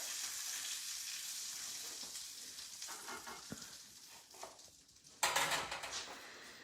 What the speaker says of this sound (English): And then I'm going to let the asparagus cook.